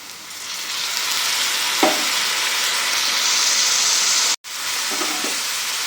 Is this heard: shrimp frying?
yes